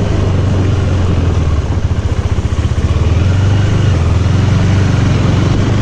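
A motorcycle cruises along a road late at night past a railway crossing, its engine droning loud, close and steady throughout with a slight rise and fall in pitch, and no other sounds standing out.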